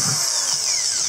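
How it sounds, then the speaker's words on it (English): A power drill bores holes through a recycled plastic bucket, giving a loud, steady high-pitched whine close by with no talk. "Some drill bits are better than others at cutting through plastic."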